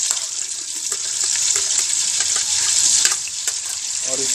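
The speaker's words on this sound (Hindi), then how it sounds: "जब ये गर्म हो जाए तो इसमें हम 3 बड़े अदद टमाटर कटे हुए स्लाइस में ये डाल देंगे" Sliced tomatoes sizzle in hot ghee with a steady crackling hiss. Small pops and spatters sound up close, with no talking.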